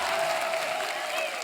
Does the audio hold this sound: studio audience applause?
yes